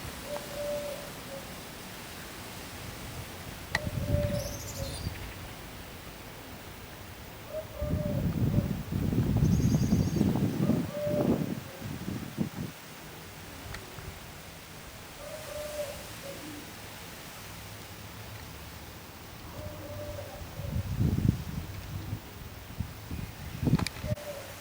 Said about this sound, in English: I hear an owl or something in the background, and some kind of dove maybe.